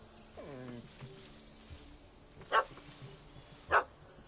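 A puppy barks twice, sharp, close yelps spaced about a second apart, after a brief whimpering whine and faint bird chirps.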